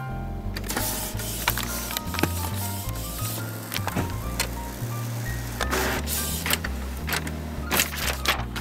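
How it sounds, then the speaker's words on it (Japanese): A Canon MG7530 inkjet printer running a nozzle check pattern print, giving a steady mechanical hum with repeated clicks, ticks and short whirring feed motions at a moderate, close level. "チェックパターン印刷でちゃんとねインクが出てるかどうか確認していきたいと思います。"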